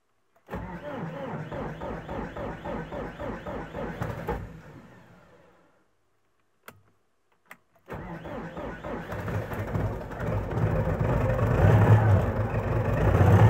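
A D-243 diesel engine, just back from a fuel line repair, cranks with a rhythmic starter chug that fades out. A couple of clicks follow, then a second crank catches and the engine runs, growing louder and steadier.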